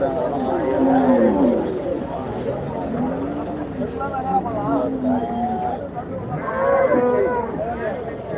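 Cattle at the Karimangalam cow market lowing in long, wavering moos, several overlapping, nearby and loud, with crowd chatter and voices talking throughout.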